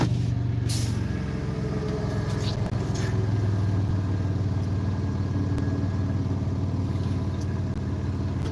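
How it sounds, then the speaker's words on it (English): Bus air brakes are applied in city traffic, with brief hissing bursts over a loud, steady engine rumble heard from inside the cab. "Now I'm going to squeeze my brakes."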